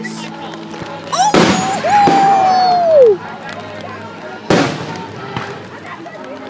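Fourth of July fireworks bursting with sharp cracks and booms, a whistling rocket trail between blasts, while a spectator exclaims loudly nearby.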